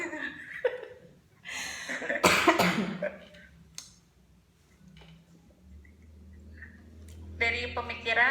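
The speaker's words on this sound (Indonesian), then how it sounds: "Batuk." A person coughs in bursts, most strongly near the middle, amid other vocal sounds and background noise.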